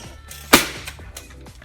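A single sharp burst near the start from a modified Super Soaker Max D 2000 water pistol fitted with a CPVC coupler, followed by a fading spray and a few faint clicks.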